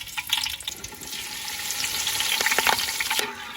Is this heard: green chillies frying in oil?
yes